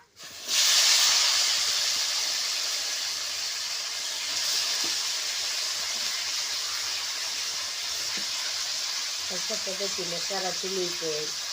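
Fresh val bean pods dropped into hot oil in a pan, giving a sudden loud steady sizzle and hiss that carries on throughout, close up, with some faint tonal sound near the end.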